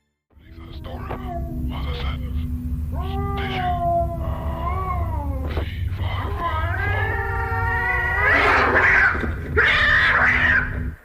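Cats meowing and caterwauling in the horror film Ghostwatch, several drawn-out, wavering cries rising and falling in pitch over a steady low hum, growing louder and harsher toward the end.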